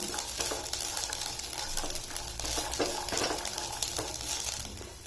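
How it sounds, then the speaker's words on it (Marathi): Fresh green peas dry-roasting in a pan over medium-low flame give a steady soft sizzle with scattered crackles and occasional scraping stirs, close and continuous with no talking. "मीडियम टू लो फ्लेमवर सुद्धा छान भाजून घेऊया"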